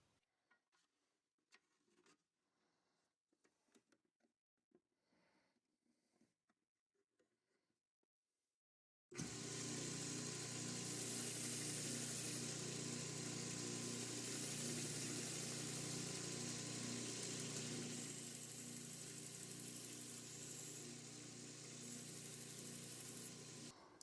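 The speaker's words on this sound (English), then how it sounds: "I'm going to turn it down on the belt sander really quickly" A belt sander grinds down a steel pin from a Case 6319PU knife. Several seconds of faint handling noise give way to an abrupt, loud, steady grinding roar that runs on unbroken to the end.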